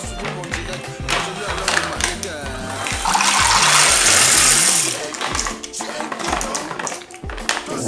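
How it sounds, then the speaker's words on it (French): Water pours over 2 kg of dried beans to soak them, a steady rushing hiss lasting a couple of seconds that rises over a busy background of music and kitchen noise. "Je dois les tremper dans l'eau."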